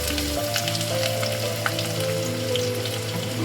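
Finely chopped onions fry in hot oil with cumin seeds in a pan while cooking a goat liver masala, giving a steady, close, continuous sizzle with crackling and no talking.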